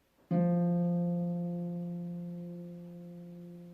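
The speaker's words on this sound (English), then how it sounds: "that is F, and it's the F just below middle C" A single low piano-like note, the F just below middle C, struck once, ringing clearly and slowly fading over several seconds with no other sound.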